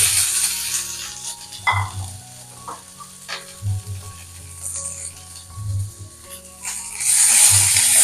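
Onion, ginger and garlic sauté in a pan for a paneer gravy, with a steady loud sizzle and repeated scraping stirs every couple of seconds.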